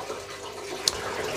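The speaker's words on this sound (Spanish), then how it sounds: "Lo que vamos a rellenar es este de agua." Tap water running steadily to refill a home aquarium, a constant close hiss of flowing water with one brief clink partway through and no talk.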